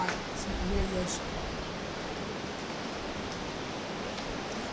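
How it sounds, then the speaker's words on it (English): Steady broadband wash of ocean surf at a busy beach, continuous and moderately loud, with faint voices briefly audible near the start. "You're going to be quiet so you can hear the ocean."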